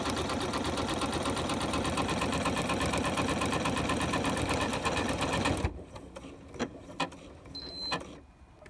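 A Janome sewing machine stitches a one-step buttonhole with a fast, steady mechanical rattle that stops abruptly partway through, followed by a few quiet clicks and taps.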